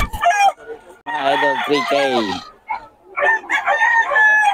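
Roosters for sale at a rainy outdoor Filipino market crow loudly in overlapping bursts, with people chatting between the calls.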